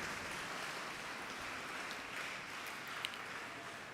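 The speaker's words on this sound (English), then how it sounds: "So everyone, one more huge round of applause, an amazing chairperson for today." Sustained, even applause from a school debate audience at the Inter-Martiniere Meet, a steady wash of clapping across the whole stretch with no voices over it.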